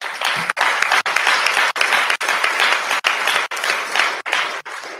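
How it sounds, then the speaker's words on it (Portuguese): Applause from an audience at a political speech, a dense wash of clapping with brief abrupt breaks, fairly loud and steady, with no clear talking over it. "Você viu umas palmas lá atrás."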